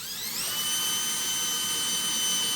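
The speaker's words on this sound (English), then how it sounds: "Then you wanna pre-drill a hole." Power drill whining as it pre-drills a hole for a roller shade mounting bracket, the motor pitch climbing sharply at the start, then holding a steady high whine.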